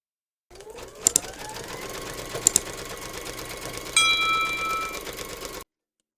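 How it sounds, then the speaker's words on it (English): An embroidery machine, hoop in place, stitches a basting round that holds fabric for a teddy applique. The needle whirs close with a steady, rapid pulse, broken by a few sharp clicks and a rising tone near the end. "pop our hoop into our machine and stitch round number 2, and that's going to baste our fabric in position"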